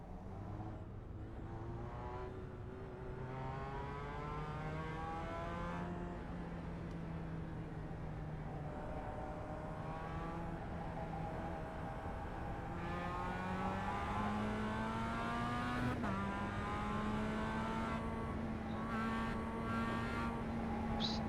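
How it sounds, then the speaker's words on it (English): An iRacing race car pulls out of first gear with wheel spin, its engine tone climbing steadily in a long, even drone with a brief dip near the end before rising again, moderately loud with no talk. "accelerating out of first gear, kind of sketchy. Wheel spin."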